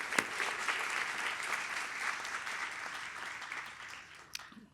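An audience at a university awards ceremony claps steadily, a dense sustained patter of many hands that fades slightly toward the end.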